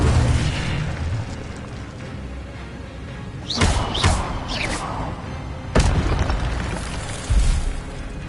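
Incendio fire spells go off in Hogwarts Legacy, with sharp whooshing bursts and booming impacts arriving in several separate hits over a low, steady game ambience.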